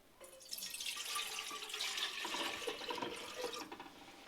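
Water splashes and pours steadily into a container, one litre at about 6 degrees, for several seconds, a close, continuous liquid rush that tapers off near the end.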